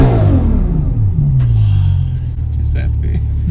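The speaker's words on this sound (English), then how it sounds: "I'll tell you what is smooth, this V12 engine." A V12 car engine revs hard close by, its deep rumbling note sweeping downward before holding a steady, throbbing idle.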